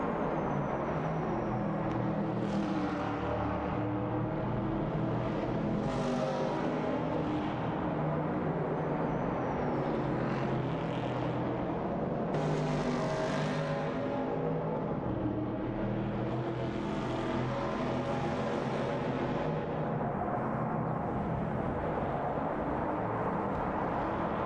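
Chevrolet Camaro 68 race cars in a racing video game, a continuous dense roar of engines with repeated rising whines as cars pass and shift, loud and unbroken, with no talking.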